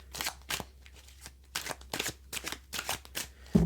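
Tarot cards being shuffled in a series of quick, close riffling bursts with short pauses between them, crisp and fairly quiet with no talking.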